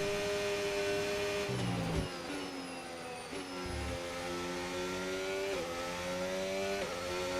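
Sustained high-pitched whine of a Formula 1 car engine cruising gently on a tyre-saving outlap in the F1 25 racing game, with steady harmonic tones rising and dipping slightly through gear changes and no talking.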